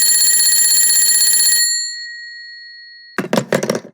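A telephone rings in two loud, sustained electronic bursts that cut off and leave a fading tone, followed after a pause by a short stretch of indistinct voice.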